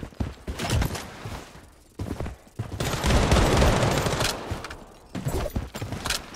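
Automatic gunfire in the shooter game Blood Strike, loud and close, with sustained bursts broken by short pauses and a long continuous spray in the middle.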